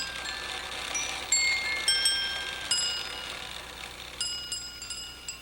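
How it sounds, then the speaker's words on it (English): A Prussian clock built in 1770 plays a tune on glass bells, with clear, bright single chimes struck one after another in a slow, melodic run over a faint background hiss. "This Prussian piece was made in 1770 and plays 6 different tunes on glass bells."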